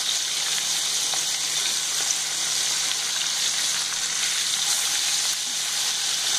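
Chapli kebabs frying in a pan of plenty of oil, a steady dense sizzle with soft crackles running evenly throughout, close and fairly loud, with no voices.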